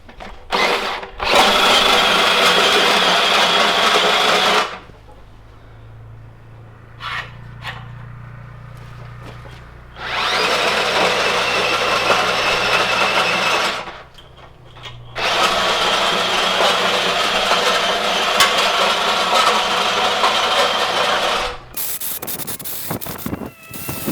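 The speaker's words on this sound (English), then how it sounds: "your drill setting is on number 1, the slower, more torquey aspect of the drill" A cordless drill on its slow, high-torque setting whines loudly in long bursts, churning a Paperpot Ellia 3000 tiller through heavy soil, with quieter pauses and a low idle hum between runs.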